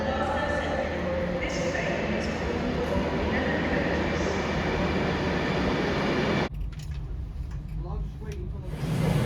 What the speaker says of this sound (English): Got off my favourite train, the Class 390 Pendolino.